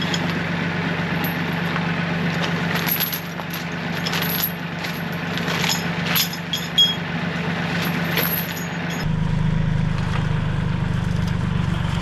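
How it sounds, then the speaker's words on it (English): A steady engine idles throughout with a low droning rumble, its tone shifting near the end as it runs a bit louder; no talking. "Right, time to get the tractor."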